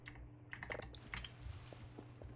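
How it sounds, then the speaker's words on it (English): A clicky mechanical computer keyboard clatters under quick, uneven typing, close and crisp with scattered keystrokes over a faint background hum. "your keyboard is the sound effect of the motorcycle going over rocks. It is a pretty clickety-clackety one"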